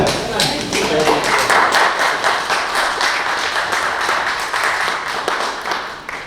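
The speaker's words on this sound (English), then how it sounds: "Applause of this type is fine" Attendees at a Cornwall, Connecticut planning and zoning meeting break into sustained applause, a steady wash of many hands clapping in a room, with voices talking underneath.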